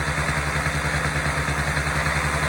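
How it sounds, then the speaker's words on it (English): A small Alpha Sport 50cc two-stroke motorbike engine, recently upgraded and repaired, runs steadily at a buzzing idle nearby, a continuous close drone with a slight regular pulse and no voices. "Good running little 2-stroke right now after the upgrades and the fixes."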